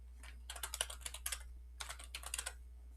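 Two quick bursts of typing on a computer keyboard enter a Python code comment, crisp clicks in rapid runs separated by a short pause, close and clear over a steady low hum.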